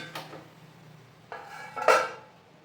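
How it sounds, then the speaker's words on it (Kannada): A ladle scrapes and knocks against a metal pot while ragi ball (mudde) is stirred, a few distinct clanks and scrapes, close and fairly quiet, with no talking. "ಸೊ ಮತ್ತೆ ಚೆನ್ನಾಗಿ ನೀಟಾಗಿ ತಿರುಗೋಣ ಮುದ್ದೆ."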